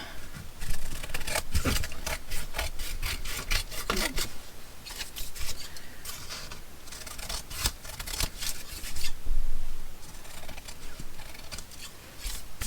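Scissors trimming threads and brown paper-bag backing stitched onto a junk journal page, a run of quick crisp snips and rustling paper, close and steady with no talk.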